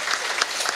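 Brief burst of crowd applause at a community sports awards night, a dense patter of clapping heard for under a second.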